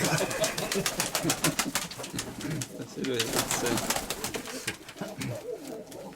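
A female pigeon coos repeatedly in a soft, low rhythm close by, mixed with rustling and a few brief spoken words.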